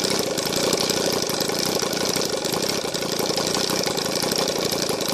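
A five-cylinder ASP FS 400AR four-stroke model aircraft engine, converted to run on gasoline with CH CDI ignition, idles with a loud, steady, dense rattling drone that continues without a break.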